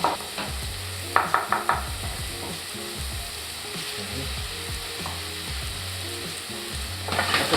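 Mushrooms frying in a pan for veal marsala, a steady close sizzle broken by clusters of sharp utensil taps and stirring scrapes at the start and end, no speech.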